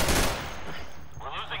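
Shotgun blast in a shooting video game, one loud close boom that decays quickly into a ringing tail.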